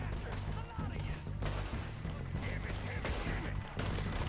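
Gunfire in Red Dead Redemption 2 comes as a dense stream of bursts over a loud, busy game mix, with a player talking over parts of it.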